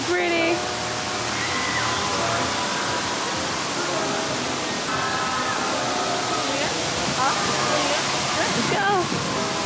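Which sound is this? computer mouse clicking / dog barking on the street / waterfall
waterfall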